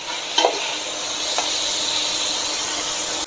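Veal pieces and lardons sizzle and fry in a pan with steady hissing, the frying noise continuous and fairly loud, with a couple of brief stirring scrapes near the start.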